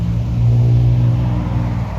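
A sports bike motorbike passes close by on a road, its engine rumble swelling loudly and then fading over about two seconds, with no talking.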